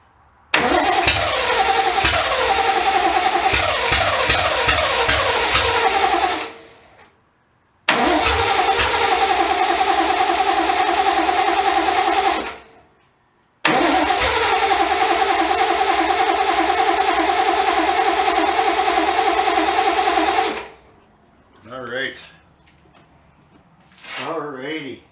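A 1972 Triumph TR6 engine cranks and catches, then roars in three long, loud revving runs broken by short pauses, ending with a few brief blips.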